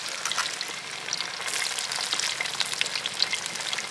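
Tomatoes frying with softened onions in a pan give a steady, close sizzle with a hissing crackle and occasional stirring, continuous and unbroken by speech.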